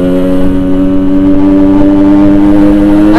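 A Yamaha RX-King motorcycle fitted with a Boban exhaust revs loudly and steadily up close, its two-stroke engine holding a strong harmonic drone throughout with no talk.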